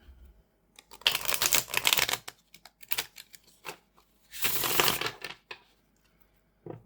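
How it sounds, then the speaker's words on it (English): Gentle Tarot cards, a slightly smaller-size deck, riffled and shuffled by hand in two main crisp, papery bursts with a few lighter taps and flicks between them, close and fairly quiet with no talking. "I'll just give this a shuffle."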